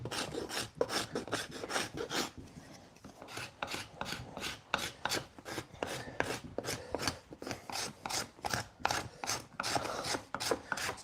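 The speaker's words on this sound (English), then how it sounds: "The scraper works really well." A hand scraper shaving a curved-grain wooden axe handle, a long run of rhythmic rasping strokes, close and even, with a brief pause partway through.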